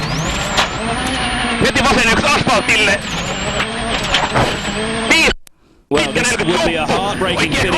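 Onboard sound of a WRC rally car at Rally Jordan 2011, its engine loud and close, rising and falling through gear changes with a brief cut to near silence, under a commentator's steady talk.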